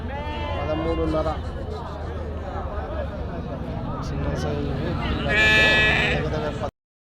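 Goats bleating at a weekly sheep and goat market in Galiveedu, Annamayya district, many overlapping cries close by, swelling louder near the end amid crowd babble.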